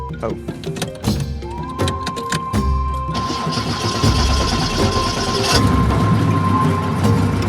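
A drag racing car engine cranks with a few thunks, then catches and settles into a steady running idle with a sustained whine, loud and close.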